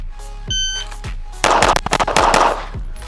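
Rapid gunfire from a 5-inch Viking Valknut pistol, a tight string of loud sharp shots in quick succession, preceded by a timer beep and a few isolated reports.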